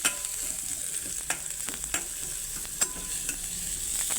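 Ingredients for a pappadam curry sauté in a pan with a steady close sizzle, punctuated by several sharp spatula knocks and scrapes as they are stirred, with no talk.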